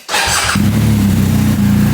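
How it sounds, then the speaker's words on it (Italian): A BMW GS motorcycle engine starts with a short cranking burst, then settles into a loud, steady idle close by, with no voices. "ora finalmente accendiamo la moto"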